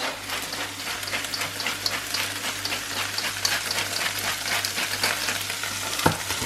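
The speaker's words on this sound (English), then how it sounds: "Just adding the garlic to the onion" Garlic paste stirred into onions frying in a pan, a steady loud sizzle with scraping stirring throughout and one sharp clink near the end.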